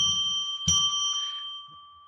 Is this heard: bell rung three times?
yes